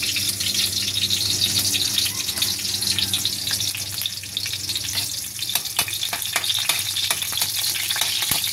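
Onion and ginger frying in a pan for a crab coconut-milk dish, a loud continuous sizzle with clattering stirs growing busier toward the end, close up and free of speech.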